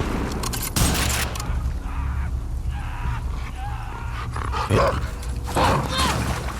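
Dog barking inside the video game The Last of Us Part II, a few loud sharp barks standing out against a dense, booming game soundscape, with people talking over it.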